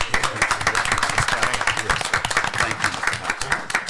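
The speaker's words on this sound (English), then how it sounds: "I just want to give you a round of applause myself" Applause at a city commission meeting in South Bay, Florida: a room of people clapping steadily and densely for several seconds, close and lively.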